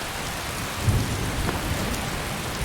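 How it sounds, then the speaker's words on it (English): Heavy rain falls steadily in the modded video game Skyrim Special Edition: a dense, continuous hiss of downpour with a low rumble of distant thunder, no voices. "It is raining outside, but not quite as heavily as this."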